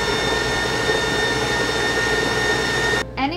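A stand mixer with a paddle attachment whirs steadily as it beats brownie batter, giving a close, even motor hum with a faint high whine. It stops abruptly near the end, leaving a few soft clicks.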